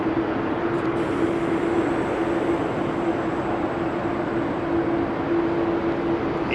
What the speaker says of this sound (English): 767-400 taxiing out.